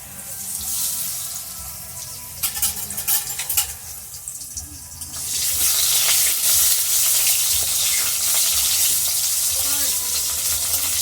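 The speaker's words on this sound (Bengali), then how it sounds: "আলু ভাজার সময় একটু নুন দিয়ে দিচ্ছি।" Potatoes fry in oil in a kadai with salt added, a crackling sizzle broken by clinks and scrapes of handling before a strong, steady hiss rises and continues close up.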